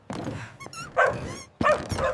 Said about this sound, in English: Excited yips and playful barks.